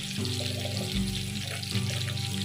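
Ground spices, turmeric, Kashmiri chilli and coriander powder, frying in a pan for a cabbage dal tarka, giving a steady close sizzle with a low hum beneath and no voices.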